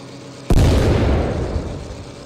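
An M26 Pershing tank cannon fires once in Tank Mechanic Simulator, a single sudden loud boom that rolls off into a long rumbling tail.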